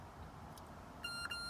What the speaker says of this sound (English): that beep there means it's locked in.